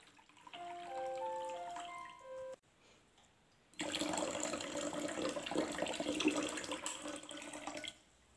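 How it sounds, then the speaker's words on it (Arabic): Water runs from a tap into a large bowl in a kitchen foot-soak preparation, a faint splashing pour that stops, then a louder, steady gushing stream for about four seconds. "ونضيف ماء"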